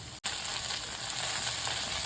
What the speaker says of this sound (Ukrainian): І ще підсмажуємо хвилини